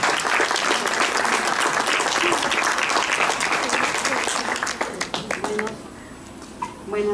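Guests at a quinceañera celebration clap together in a loud, dense round of applause that tapers off near the end into a few scattered claps, with some voices audible under it.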